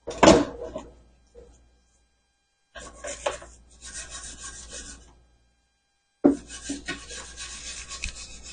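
A small brush scrubs acetone over an alloy wheel rim to strip old tire gunk, giving close, dry, raspy rubbing in three bursts separated by silent pauses.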